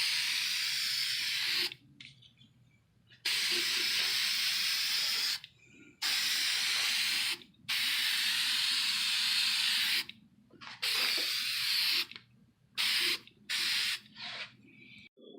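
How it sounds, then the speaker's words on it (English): A spray can of clear acrylic gloss coating hisses in several long bursts of varying length, separated by short silences, close and steady, sealing paint on a homemade Predator armor shoulder cannon. "I'm going to go ahead and spray this down to give it a nice finish and seal all this paint in."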